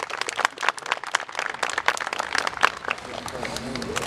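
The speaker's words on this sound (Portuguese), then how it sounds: "Aplauda Jesus, gente" Church congregation applauding during a ceremony, with a burst of close, uneven clapping and crowd noise that thins out toward the end. Voices are mixed in throughout.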